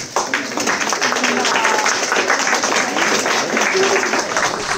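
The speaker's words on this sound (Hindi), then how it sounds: "आप लोग तालियों से इस सम्मान में सहभागी बने, तालियां बजाइए।" Audience applause at a World Hindi Day 2024 celebration, a dense steady wash of many hands clapping that fills the whole stretch, with some crowd murmur mixed in.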